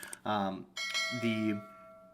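A short electronic notification chime sounds in two quick bell-like tones, clean and fairly quiet, standing alone without talk.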